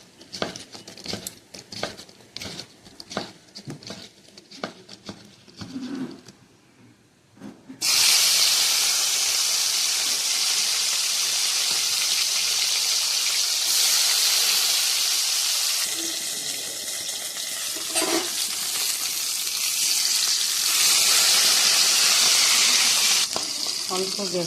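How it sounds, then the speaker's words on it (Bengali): Crab pieces rubbed with salt and turmeric hit hot oil in a pan, setting off a loud, steady sizzle and hiss that carries on nonstop after a quieter stretch of clattering kitchen noise at the start. "অল্প গ্যাসে টান টান করে ভাজবো, একদম লাল লাল করে।"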